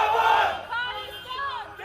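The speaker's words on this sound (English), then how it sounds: "Crowds gathered overnight, grieving the leader." A crowd gathered overnight to grieve a Sikh leader who was shot dead in a gurdwara parking lot in British Columbia, heard as a loud, sustained mass of raised voices crying out together.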